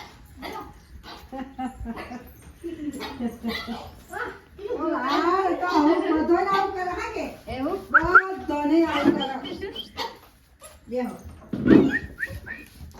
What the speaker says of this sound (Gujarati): લાલો લાયો કૂતરું